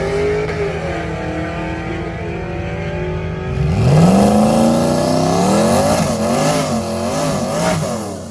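A turbocharged Mustang GT launches down a quarter-mile drag strip, its idling engine erupting into a loud, rising roar that climbs through several rapid gear shifts, close and intense with turbo whine on top.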